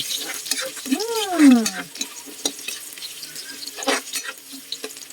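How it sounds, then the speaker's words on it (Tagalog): Chopped onion and garlic go into a hot pan and start sautéing for a Filipino string bean and eggplant dish, a soft sizzle with stirring clatter and a brief squeaky swoop near the start. "Susunod na po natin ilagay ang sibuyas at ang bawang."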